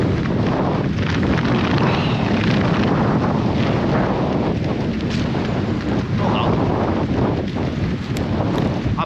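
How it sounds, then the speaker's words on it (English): Strong wind batters the microphone on a marshland quayside, a loud, continuous roaring buffet that holds steady with gusty surges throughout and no speech. "I seem to be getting battered by the wind"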